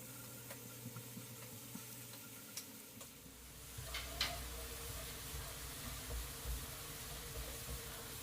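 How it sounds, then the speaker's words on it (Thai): Chopped garlic fries in hot oil in a pan until golden, making a soft, steady sizzle and crackle with faint ticking pops throughout. It is fairly quiet and has no talk over it. "นำกระเทียมลงไปแล้วก็เจียวให้เหลืองหอมเลยนะครับ"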